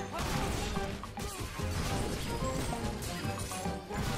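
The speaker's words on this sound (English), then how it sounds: "We're just like hooligans smashing pumpkins all over the place." Pumpkins smashed apart in the Fable Heroes video game, with dense repeated crashing and whacking hits in a loud, busy mix over game music, some voices faintly underneath.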